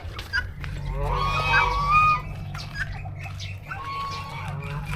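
Ducks and geese honking and quacking at a children's petting farm, several birds calling close by in overlapping bursts over a steady low rumble, with faint voices in the background.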